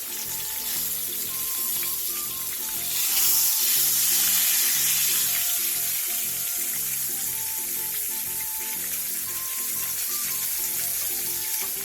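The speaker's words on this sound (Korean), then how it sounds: "바닥이 바삭하게 노릇노릇해지면 뒤집어 마저 구워주세요." Hairtail fish pan-frying in plenty of oil over medium-low heat, a steady close sizzle and crackle throughout that swells briefly louder, with faint clinks and background tones underneath.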